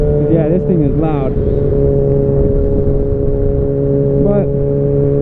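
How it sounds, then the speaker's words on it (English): A 2013 Kawasaki 636 motorcycle with no catalytic converter and no muffler baffle rumbles loudly and steadily, briefly revving, close by throughout. "No cat, and then no baffle in the muffler, so it does get loud."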